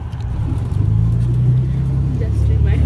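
Tour bus driving on the road, its engine giving a steady low drone that swells slightly as it picks up speed, heard alone without talk.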